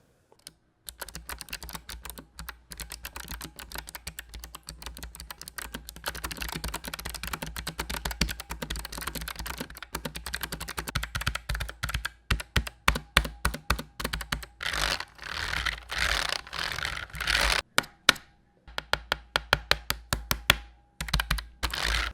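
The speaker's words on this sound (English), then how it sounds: "The clicks are loud and the tactile feeling is quite strong" Typing on an MSI Vigor GK50 low-profile clicky keyboard: a close, continuous stream of sharp key clicks and clacks, speeding into dense rapid bursts, with no talking.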